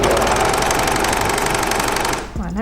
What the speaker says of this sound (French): D'abord je vais surjeter dans le vide pour retirer le 4e fil